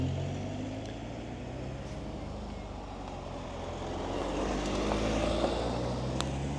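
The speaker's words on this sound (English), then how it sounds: "And another car coming as well." Car approaching along a road, a low engine rumble and tyre noise that slowly grows louder and nearer, heard against steady outdoor wind from a rider on a folding electric city bike.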